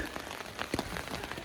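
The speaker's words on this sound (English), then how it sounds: "It's raining" Rain falling steadily on a surface at a riverside camp along the Whanganui River, a close, dense patter of drops with a few louder taps and no voices.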